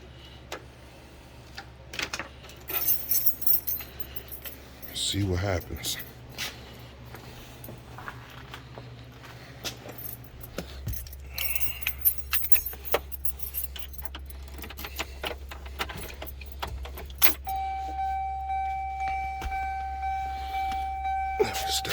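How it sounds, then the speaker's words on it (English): A set of keys jangles and clinks close by while someone gets ready to switch on a sound system; a person talks briefly and there are other handling noises. "So grab my keys."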